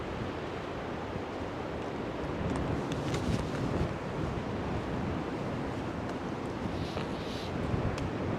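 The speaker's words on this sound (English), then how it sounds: "it is still windy here" Strong, bitter-cold wind at Bamburgh buffets the microphone in a continuous, roaring rush with no talking.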